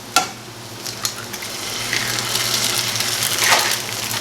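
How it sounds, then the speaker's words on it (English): Eggs cracked into a breakfast hash in a frying pan, a few sharp taps at first, then a steady, close, rising sizzle with no one talking. "now I'm just going to kind of make a hole And I'm going to crack my eggs"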